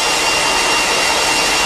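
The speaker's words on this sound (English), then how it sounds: "With your hair dryer, a little bit more." Hair dryer blowing steadily and loudly at close range while drying hair styled with a mild mix spray, a continuous broadband airflow whoosh with no talk over it.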